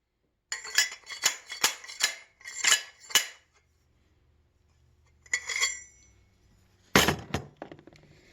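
Sharp metallic pounding of a slide hammer driving a bicycle headset cup, about six quick strikes in a row, then a pause, a short scraping clank, and two more hard hits; close and alone.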